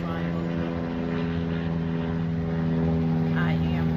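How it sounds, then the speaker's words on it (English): An airplane flies overhead as a steady, droning engine hum with a low tonal buzz that holds at an even loudness throughout. "There's an airplane flying"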